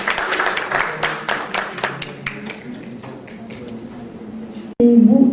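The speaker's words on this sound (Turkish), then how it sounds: "Alkışlıyorum." Audience clapping at a cosmetic lip-injection presentation, a burst of loud sharp claps that thins out and fades, then cut off by a sudden louder voice.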